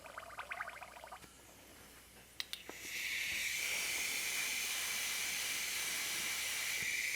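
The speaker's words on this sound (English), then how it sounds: "So I'm just mixing it in my airbrush right now." An airbrush hisses while paint is mixed and thinned in it. A few quick clicks come first, then a loud, steady, continuous hiss that lasts to the end, close by and with no voices.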